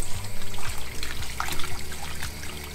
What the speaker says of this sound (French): Je les passe sous l'eau froide.